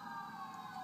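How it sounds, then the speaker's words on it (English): Emergency vehicle sirens wail faintly from a distance, a brief steady tone under background hum, with no talk. "Sirens."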